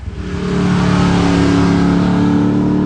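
A Mazda RX7 with a rotary engine runs loud and close, rising from idle into a sustained, buzzy rev that holds steady to the end.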